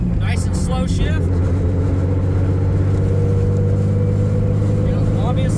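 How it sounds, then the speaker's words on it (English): A car with a dogbox transmission idles and runs at low revs while being shifted slowly into second gear. The engine keeps up a steady, loud drone and the gear change makes a faint whine, with speech heard over the engine. "We're gonna go right to second gear, clutch in, second gear, and just take it nice and easy"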